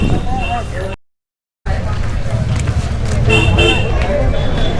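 Motor vehicles at a road blockade on a village road, with horn toots and engine noise under steady crowd babble and nearby talk, interrupted by a brief gap of silence.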